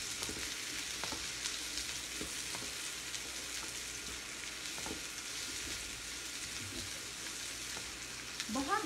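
Yellow bell pepper stir-fries for veg chow mein in a pan, giving a steady, fairly quiet sizzle with scattered soft tosses and utensil taps, continuous throughout.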